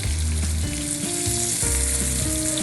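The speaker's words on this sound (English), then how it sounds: "I have heated up 2 tablespoons of butter and I'm going to shallow fry the fish now." Fish shallow frying in butter sizzles steadily and loudly throughout, a dense continuous crackle with tonal background music playing underneath.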